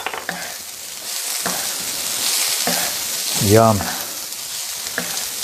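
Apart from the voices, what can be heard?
scallops, cabbage and celery sizzling on a griddle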